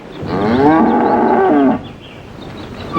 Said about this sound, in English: Would you listen to that cow now?